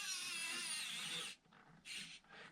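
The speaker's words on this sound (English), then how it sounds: "Electric screwdriver is very useful." An electric screwdriver drives screws into the body of a 1/8 scale 1976 Lancia Stratos static model kit: a steady close motor whine, then two shorter bursts after a brief pause.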